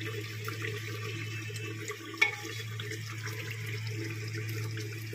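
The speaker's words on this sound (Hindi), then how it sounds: "फिर इसमें पानी डालेंगे।" Water pours steadily into a cooking pot, a continuous splashing stream close by with one brief clank partway through.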